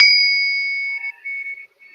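A metal Liberty Bell replica struck once, giving a bright ringing ping that sustains and slowly decays, close and alone.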